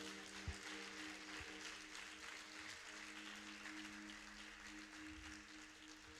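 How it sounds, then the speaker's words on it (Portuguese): Steady applause from a church congregation, a continuous dense patter of clapping at moderate distance, with a low hum underneath. "Será que você pode aplaudir ao Senhor?"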